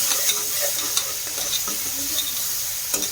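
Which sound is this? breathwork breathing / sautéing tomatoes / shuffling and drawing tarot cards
sautéing tomatoes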